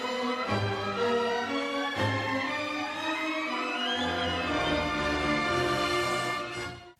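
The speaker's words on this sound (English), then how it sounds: "With music written 400 years later that sounds like this" Orchestral classical music composed around 1900, with sustained strings and rich layered harmonies swelling in a continuous, full texture, loud and steady throughout before a brief fade at the end.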